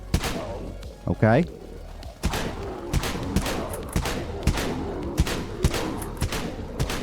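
Dual Broncos shotguns fire in the Dead Frontier video game as a series of sharp, punchy blasts at a fairly steady pace, with a brief spoken word early on.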